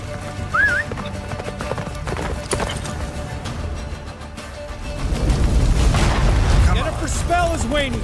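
Horse galloping in The Witcher 3, rhythmic hoof clip-clops under game music and effects, with a whinny and a voice calling out, the action growing louder in the second half.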